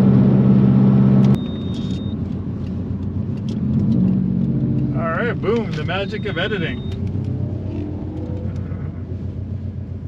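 Engine of a 2005 Subaru Impreza WRX STi sedan humming steadily while driving toward a curvy hill road, a continuous low drone under a voice talking over it throughout.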